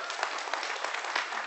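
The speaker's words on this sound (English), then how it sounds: "give them a warm round of applause again" A church congregation applauds first-time visitors, a brief, steady burst of many hands clapping in a room, moderately loud and even.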